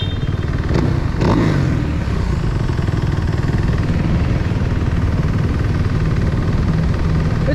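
A dual sport motorcycle engine roars steadily at close range while riding off-road at Ott ATV Park, loud and continuous, with a couple of sharp clatters early on.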